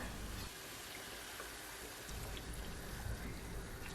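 Water drizzled into a pan of sautéing chicken with tomato paste and olive oil, giving a steady, close hiss and crackle of sizzling liquid that swells briefly, then settles back into a continuous sizzle.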